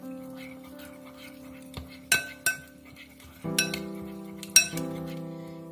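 A spoon mixes cumin powder and salt in a bowl at close range, giving several sharp clinks and taps of metal against the dish over a soft continuous hum.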